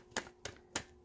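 Tarot cards being shuffled by hand: three quick, crisp papery bursts, evenly spaced about a third of a second apart, fairly quiet and close with nothing else around them.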